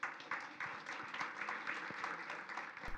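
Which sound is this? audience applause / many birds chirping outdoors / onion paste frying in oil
audience applause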